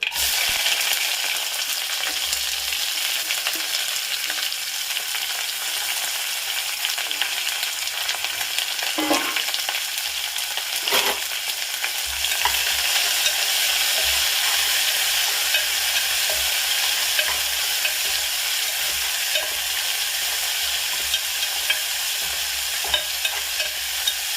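Clams frying in a pan with onion, green chili and crushed garlic give off a loud, steady sizzle for the whole stretch, broken by a few louder stirring scrapes and no talk.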